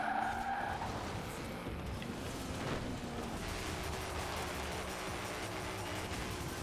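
Car drifting through mud in the racing game Forza Horizon 4, its tires skidding in a steady rough roar with engine noise that stays close and loud throughout, no voices over it.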